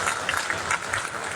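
Party workers clap to welcome Deputy Chief Minister Keshav Prasad Maurya on his arrival in Ambedkar Nagar, a brief burst of dense crowd applause with a steady, textured rattle of many hands at moderate loudness.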